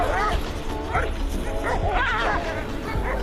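Sled dogs in a village in Yakutia bark and yip repeatedly in an irregular, overlapping chorus, close and fairly loud, with occasional whimpers mixed in over steady background noise.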